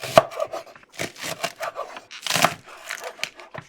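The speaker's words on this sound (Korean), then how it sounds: "자 대파를 숭덩숭덩 하자 숭덩숭덩" Knife chopping green onions (daepa) on a cutting board, a rapid irregular series of close, crisp thuds and crunchy cuts with brief pauses, no talking.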